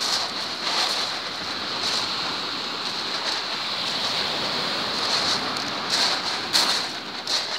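Steady roar of waves breaking on a shingle beach at Shingle Street on the Suffolk coast and washing back, a continuous close wash with rhythmic surges and hiss, no voices.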